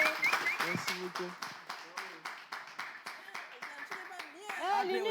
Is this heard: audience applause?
yes